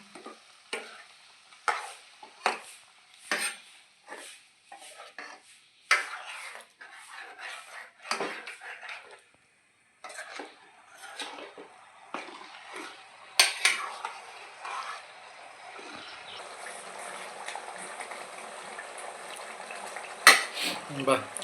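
Stirring masala into stuffed eggplant curry in a pan, repeated sharp scrapes and clinks of a spoon against metal with a soft sizzle building toward the end.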